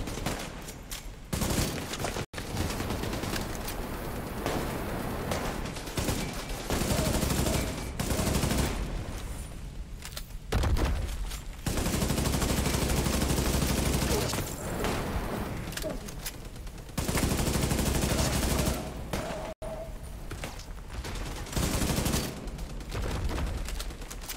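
Rapid bursts of automatic gunfire in The Division 2: Warlords of New York shooter game, loud and dense volleys broken by short pauses, with explosive booms mixed in.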